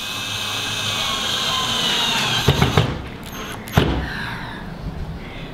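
A power drill drives the original supplied screws through a metal frame into a timber bar stool seat, whirring loudly and continuously before stopping with a couple of sharp knocks and then quieter rattles.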